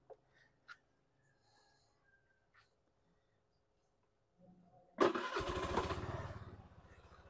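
A Suzuki Smash motorcycle engine, just given an oil change, cranks after a few faint clicks and quiet handling sounds, then fires up and runs loud and close, its throb easing slightly toward the end.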